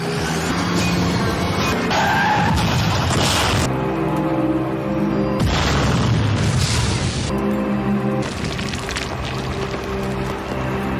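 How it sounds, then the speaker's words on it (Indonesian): A truck slams into a car from behind and the car bursts into flames: loud crashing impacts, tire skids and a booming blast with a roaring rumble, followed by further heavy crashes, with no talk. "sebuah truk menghantam dari belakang. Mobil pun kemudian meledak dalam kobaran api."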